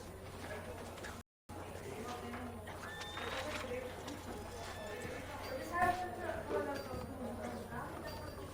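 A horse walks in the video game Red Dead Redemption 2, its soft hoof clip-clops plodding along under ambient bird coos and background chatter, with voices talking at times.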